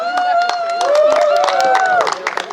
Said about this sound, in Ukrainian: Друзі, давайте також оплесками зустрінемо.